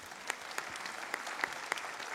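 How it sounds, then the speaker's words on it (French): Faint applause from a distant audience at a Guadeloupe sports awards ceremony, with a few sharper claps rising from a soft, continuous patter. "Sous vos applaudissements, s'il vous plaît."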